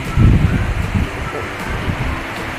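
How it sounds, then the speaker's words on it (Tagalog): Strong typhoon wind sweeps through a residential street in Valenzuela City, giving a loud, close, rumbling buffet on the microphone in uneven gusts. "Malakas po ang hangin ngayon dito sa Gentillo Leon, Valenzuela City."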